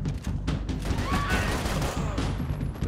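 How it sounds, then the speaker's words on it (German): A rapid fusillade of gunshots in the video game Max Payne 3 crackles continuously, sharp bursts layered over a booming, dense background with no voices. "Ich mache vor allem die panischen Schüsse eben zwischendurch"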